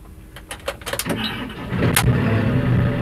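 A 2009 JCB 535-95 AGS telescopic handler's engine cranks with a few rapid clicks and bursts, then catches and settles into a steady, close diesel-like rumble.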